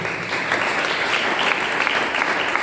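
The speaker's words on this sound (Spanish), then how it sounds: "Dale un aplauso." Steady applause from a church congregation during a sermon, an even, fairly loud wall of many hands clapping for a couple of seconds.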